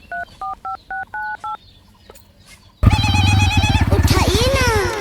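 A mobile phone keypad dials out with six quick, evenly spaced touch-tone beeps, followed by a loud, harsh burst of noisy sound.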